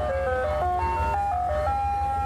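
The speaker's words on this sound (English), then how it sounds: "Then we heard the ice cream truck, and I was like, well, there we go." Tinkling melodic jingle from an ice cream truck playing a simple tune over a low rumbling engine, fairly loud and close, no talk.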